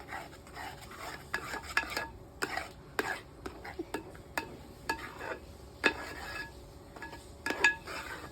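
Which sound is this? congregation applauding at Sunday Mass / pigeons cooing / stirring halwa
stirring halwa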